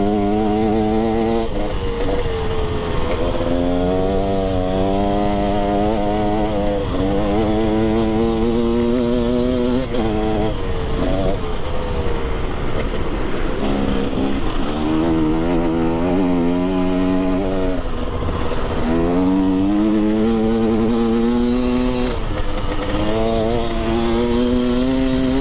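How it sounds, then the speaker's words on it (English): A motorcycle engine runs loud and close throughout, its pitch climbing and falling in repeated rising sweeps as the rider accelerates and eases off, with steady road and wind rumble beneath. "My bike has sounded funny."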